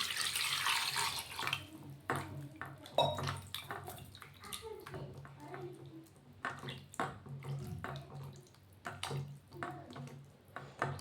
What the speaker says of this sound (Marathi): एका पाण्याने धुतलंय, आता परत पाणी टाकते मी।